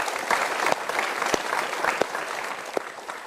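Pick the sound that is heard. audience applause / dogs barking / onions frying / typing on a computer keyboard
audience applause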